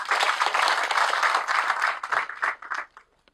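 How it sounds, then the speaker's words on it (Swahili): Applause for Tanzanian military officers at a flag handover ceremony: dense, steady clapping from a gathered group that holds strong, then thins and fades out toward the end. "Tuwapigie makofi."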